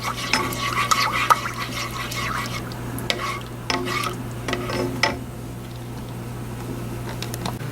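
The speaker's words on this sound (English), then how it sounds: "the half a cup of butter, stirring it constantly, and you stir it until it turns a golden brown" Half a cup of butter stirred constantly in a pan to brown, close utensil scrapes and clicks in uneven bursts over a faint sizzle and a low steady hum, quieter toward the end.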